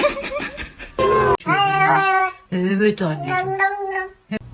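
A pet cat meows several times in drawn-out, talkative calls at close range, with short gaps and a sharp break between cries, while a person speaks around them.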